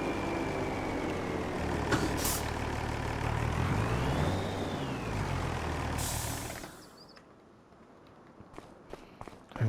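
A vehicle comes to a stop with an air brake hiss while parking in Farming Simulator 25, engine droning before cutting off into a quieter stretch with faint clicks.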